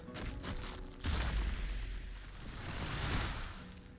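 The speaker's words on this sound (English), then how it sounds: "Au moins l'explosion aura été efficace." An explosion in the video game Divinity: Original Sin II goes off about a second in as a sudden deep boom, followed by a sustained rumbling crackle of debris that swells again before fading.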